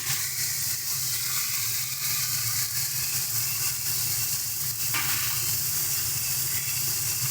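Banana flower tossed into a pan of spiced potato and tomato, giving a steady loud sizzle and frying hiss that runs unbroken throughout with no talk.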